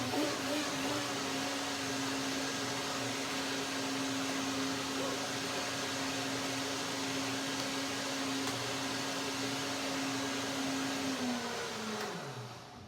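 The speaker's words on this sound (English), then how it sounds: "One more blending, blender dance." A blender whirs steadily through a cashew, banana and cherimoya smoothie, a loud continuous motor drone with a stable pitch that winds down and drops at the very end.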